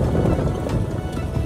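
A vehicle fords the Ratuwa river on the Damak–Rabi road in Nepal, giving a steady, close churn of water and low rumble that fills the whole stretch, with no voices.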